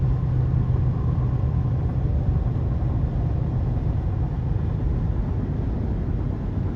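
A car drives along the highway on the prairie east of Cheyenne, with a steady, loud, even road rumble and engine drone heard from inside the vehicle the whole time, no talking.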